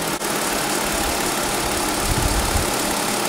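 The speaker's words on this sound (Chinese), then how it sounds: "你看这个怠速" A 2020 facelifted Lexus RX idles with its engine running, giving a smooth, steady low hum heard close up with no voices over it.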